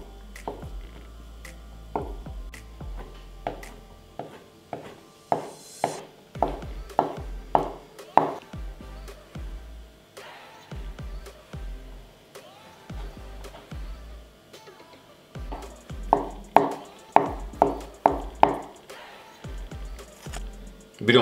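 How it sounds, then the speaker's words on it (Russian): A knife chops hard-boiled eggs rapidly on a cutting board in quick bursts of sharp, close taps, pausing between runs, with no talking. "мелко нарезаем"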